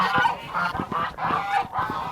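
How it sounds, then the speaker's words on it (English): Geese honk loudly and repeatedly in a steady rhythm on a farm, several calls overlapping close by with no talking. "Stupid geese."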